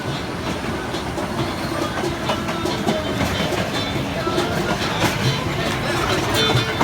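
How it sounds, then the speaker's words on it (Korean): Steady rumble and rhythmic clatter from inside a moving train carriage returning to Cusco from Machu Picchu, wheels clicking over the rails with a constant hiss of motion. "쿠스코로 돌아오는 열차 안."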